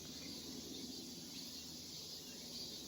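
Cicadas and other insects in a temple garden at Meigetsuin give a steady, high, continuous shrill drone with no pauses, with faint bird chirps mixed into the background.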